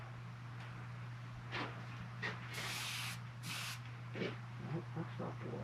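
Two sustained bursts of hissing spray from a paint gun stand out over a steady low motor hum, with faint short puffs before and after.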